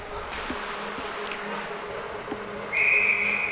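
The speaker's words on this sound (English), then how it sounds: "We get another whistle this time." A referee's whistle at a junior varsity ice hockey game blows once, a sharp, steady high tone near the end, over a low arena hum.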